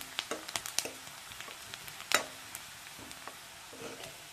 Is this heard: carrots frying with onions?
yes